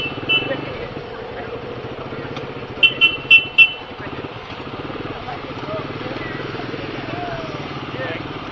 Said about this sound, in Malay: Jadi kita nak test drive motor ni malam ni.